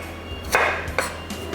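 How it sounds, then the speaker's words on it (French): Knife chopping potatoes into small pieces for a mash, two or three quick close cuts on a board, each a short crisp knock, with quiet room noise between. "On va couper ces morceaux en petits, comme ça cuit beaucoup plus vite."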